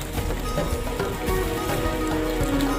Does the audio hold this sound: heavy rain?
yes